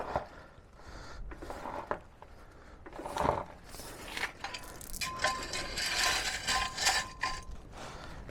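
A car jack ratchets and clicks as it lifts a supercharged Range Rover off the ground onto its frame rail. Irregular mechanical clicking and creaking carries on for several seconds at moderate level, with no talk.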